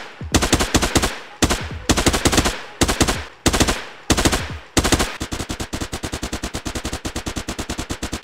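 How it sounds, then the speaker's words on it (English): Rapid submachine gun bursts from a Fortnite knockoff shooter game, several short loud volleys separated by brief pauses, then one sustained fast stream of shots near and alone. "So what about this SMG?"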